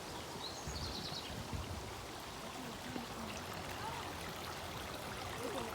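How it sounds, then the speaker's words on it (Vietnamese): A small stream flowing at the El Dorado Nature Center: a steady, soft rushing and trickling of water, continuous and fairly quiet, with faint bird chirps in the background. "Cái suối nhỏ nhỏ này."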